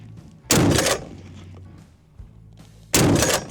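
A .50 caliber rifle fires two violent, booming shots about two and a half seconds apart, each loud close blast trailing into a short rumbling decay.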